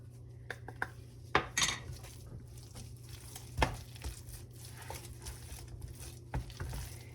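A spoon stirs edamame avocado dip in a bowl, giving a few soft scrapes and clinks against the bowl over a low hum, close and fairly quiet, with no talking.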